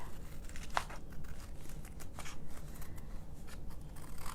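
Scissors snip and trim around a slimline paper card with a snowflake design, giving soft, close crisp cuts and light paper rustling throughout.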